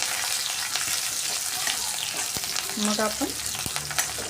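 Peanuts and curry leaves fry and get stirred in hot oil, giving a steady close sizzle with scraping stir strokes, and a brief voice speaks over it.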